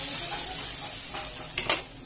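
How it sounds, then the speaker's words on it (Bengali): A spoon stirs fish and potato curry in a pan just after water goes in, giving a steady soft sizzle and hiss with two brief scraping clinks near the end. "এবার ভালো করে একটু নেড়ে নিচ্ছি জল দিয়ে, একটু ভালো করে নেড়ে নিলাম।"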